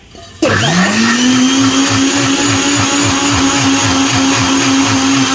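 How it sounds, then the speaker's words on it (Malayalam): A mixer grinder jar starts abruptly and runs at full speed blending boiled okra, a loud steady whine with a pulsing low churn throughout, close by and with no talk. "അപ്പോൾ ഇവിടെ നമ്മുടെ ജാറിലേക്ക് ഞാൻ ഇട്ട് കൊടുത്തിട്ടുണ്ട്. ഇനി നന്നായിട്ട് നമുക്കൊന്ന് അരച്ചെടുക്കണം."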